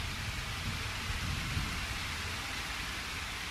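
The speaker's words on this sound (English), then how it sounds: "Why is rain always so loud in games?" Steady, loud rain pours down in a video game with a dynamic weather system, a dense continuous hiss with low rumbling underneath and no pauses.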